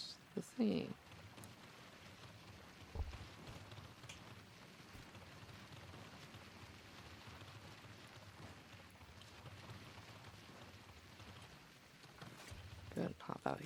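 Rain in the video game Scrap Mechanic falls as a steady, soft hiss of drops, with a few louder thumps at the start and end.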